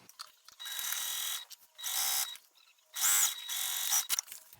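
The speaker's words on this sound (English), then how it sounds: "I'm going to sew across here, back stitching when I start and stop" Sewing machine stitching a 1/4 inch seam across a clear vinyl pouch with backstitching at start and stop, three sustained whirring runs of a second or so each, separated by short pauses, close and steady.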